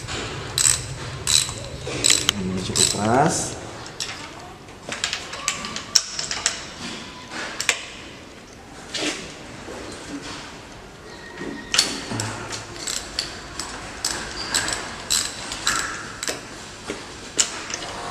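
A ratchet wrench clicks in repeated bursts while loosening spark plugs on a light vehicle engine, the close metallic pawl ticks coming in irregular runs with short pauses between.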